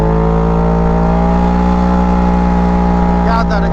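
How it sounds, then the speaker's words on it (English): A side-by-side UTV's loud exhaust drones steadily while riding a snowy river canyon trail, a close, sustained low rumble with a constant engine hum throughout and a faint voice near the end. "God, that exhaust is pretty loud."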